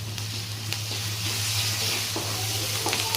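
Readymade ginger garlic paste frying in a pan for an aloo paneer curry, a dense continuous sizzle with occasional faint scraping from stirring, close and fairly loud, no talking.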